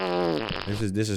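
A short, squeaky fart, loud and close, lasts about a second with a wavering pitch and no talk around it.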